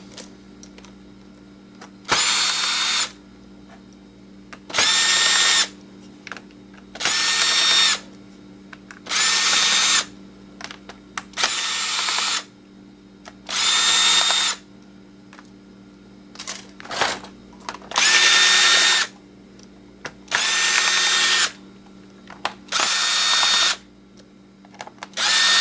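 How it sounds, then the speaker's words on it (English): A power drill backs screws out of an old laptop in about a dozen loud whirring bursts, each a couple of seconds long, separated by brief quiet pauses and small clicks. "Let's get all these screws out."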